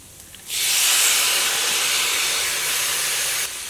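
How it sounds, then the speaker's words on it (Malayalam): Tomatoes hit hot masala in a pan for a beef roast, and a loud, steady sizzling hiss erupts at once, holding strong until it cuts off just before the end. "ഇനി ഇതിലേക്ക് തക്കാളി ചേർക്കാം."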